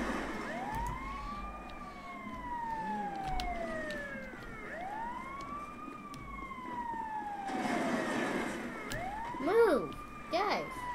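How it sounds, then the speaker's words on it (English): Video game ambulance siren wailing, sweeping up and down repeatedly over engine rumble, with voices talking over it at times, loud and continuous throughout. "Guys, move out of the way from the ambulance."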